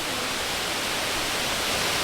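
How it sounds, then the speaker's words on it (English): Rushing water from a Bali waterfall, a dense, steady roar of broadband spray that fills the whole clip at close range without pause or voices. "Look at this waterfall."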